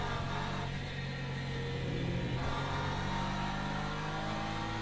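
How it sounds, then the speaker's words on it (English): An LMP3 race car in the Le Mans Ultimate racing game closes in from behind, its engine a continuous droning rumble and whine that holds steady throughout. "Now we got the LMP3 coming behind."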